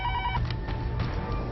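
A telephone rings in a short, close burst, with a few electronic trill pulses over a steady low background and no voices.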